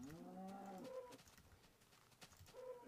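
A Minecraft cow moos twice, a long drawn-out low call at the start and a shorter one near the end, with quiet in-game background in between.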